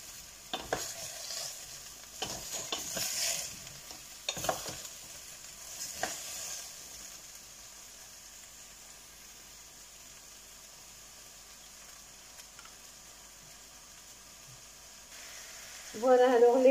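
Sliced courgette and potato sizzle softly in butter in a saucepan while a spoon stirs in several scraping bursts, then the pan settles into a low, quiet frying hiss.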